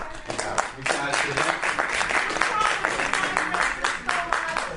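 Applause from an audience at a county board meeting, a steady wash of many hands clapping throughout, fairly loud and close, with some voices mixed in.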